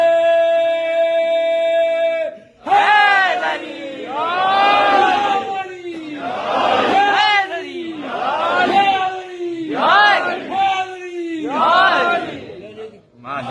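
A crowd at a religious gathering chants 'Ali Ali' slogans in loud, rhythmic call-and-response waves. A leader's voice sets each call and massed voices answer, repeating about six times.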